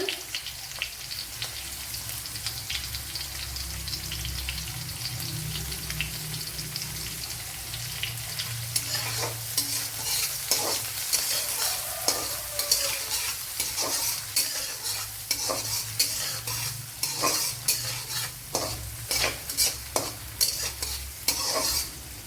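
Vegetables and curry leaves frying in a pan for semiya uppumavu, a steady sizzle growing busier partway through with frequent scraping stirs and clinks, close and continuous with no talk.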